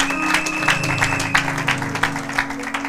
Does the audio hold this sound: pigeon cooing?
no